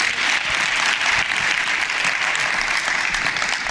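Steady applause fills a room at a Sanlam SMME Collective business event, a dense crowd clapping evenly and continuously at moderate loudness with no voices over it.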